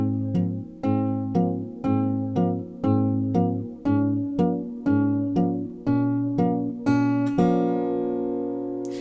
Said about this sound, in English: Section A from guitar 1 sounds something like this.